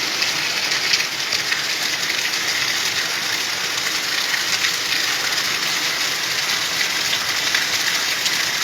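Heavy afternoon rain pours down steadily, a dense, loud and unbroken hiss of drops with no voices.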